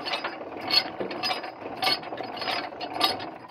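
A discbine mower module drive runs after repair of a broken module drive shaft, with new blades and new gearbox oil. It gives a close, steady mechanical rattle with rhythmic clicking pulses about once a second.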